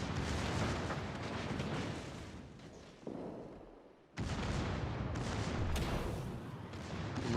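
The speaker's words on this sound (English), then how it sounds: "I'm doing the same, but we miss each other with the big guns." Big ship guns boom in a naval battle video game, a dense, loud barrage of heavy blasts that drops away briefly before a fresh roaring salvo resumes.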